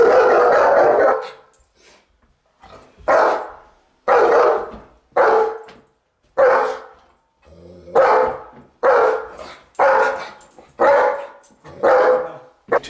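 An aggressive German Shepherd barks repeatedly and loudly nearby, delivering about ten sharp, forceful barks in an uneven rhythm with brief pauses between them.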